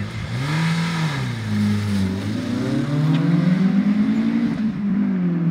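A naturally aspirated Opel engine, an Astra F or Kadett GTE, revs smoothly with a deep, rising and falling exhaust note, loud and close, building toward the end.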